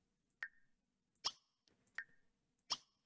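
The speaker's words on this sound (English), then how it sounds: "This next mod is The Sims 3 sound effect replacement for the pie menu," Sims 3 style pie menu clicks heard as a mod in The Sims 4: four short, bright plopping blips spaced about a second apart, clean and close with nothing else around them.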